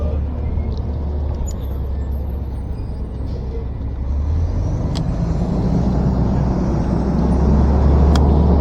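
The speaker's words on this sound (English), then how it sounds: "This is the dump truck." A garbage truck of the kind that lifts big dumpsters drives past on a road, heard from a nearby e-bike, a steady low diesel rumble that grows louder and heavier partway through, with faint clicks and light background noise.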